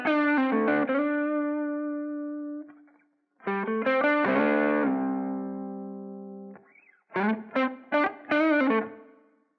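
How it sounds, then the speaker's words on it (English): Blues licks on an electric guitar with a driven, effected tone: three phrases of bent, sustained notes and quick runs, close and clear, separated by short silences, with no talking. "you can play these licks to your heart's content along with our slow blues backing track"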